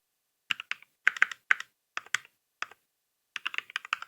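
A computer keyboard is typed on while HTML code is written in VS Code. Short bursts of crisp key clicks come in uneven clusters with quiet pauses between them, close and clear, with no speech.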